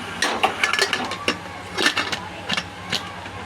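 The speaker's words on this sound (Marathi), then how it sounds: "कुकरचं झाकण" A pressure cooker lid is handled and fitted on, making a run of sharp metallic clinks and knocks close by, with faint talk in the background.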